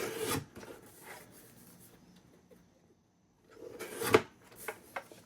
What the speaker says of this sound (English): Sometimes it gets all gummy on the side and I have to clean it. Just trim off an edge.